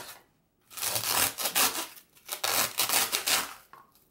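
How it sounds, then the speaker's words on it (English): Scissors cut through craft material for an under-the-sea centerpiece, making several close, crisp snipping and rasping strokes in quick bursts with brief pauses between them. "And I'm going to just cut. Love that sound."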